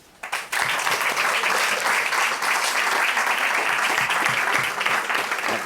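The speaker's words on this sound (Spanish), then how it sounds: "le voy a pedir un aplauso para ella." Audience applause at a book presentation in Miami swells quickly into a dense, steady clapping that fills the room and holds at full strength throughout, with no speech over it.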